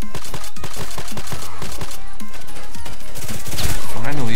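Rapid gunfire from an EBR marksman rifle in the shooter game Contract Wars, loud, close and clipped, with bursts of sharp shots in quick succession, while a person talks over the shooting.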